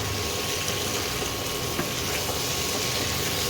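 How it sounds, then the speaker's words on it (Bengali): Mutton sizzles in hot ghee in a pan, a dense, steady frying hiss with no talking. "ঘিয়েতে একটু ভেজে নিতে হবে।"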